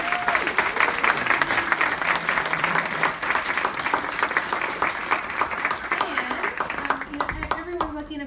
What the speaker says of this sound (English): Everyone give this panel a big round of applause.